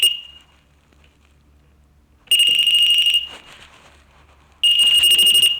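A security camera's motion-detector alarm sounds as two loud, shrill electronic beeping bursts separated by a quiet gap, each lasting under a second and sharply pitched.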